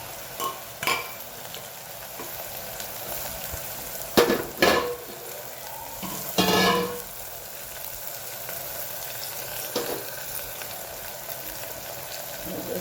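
Cumin, asafoetida, bottle gourd and jaggery go into a hot pan with oil and fry under a steady low sizzle, with several sharp spoon knocks and stirring scrapes against the pan.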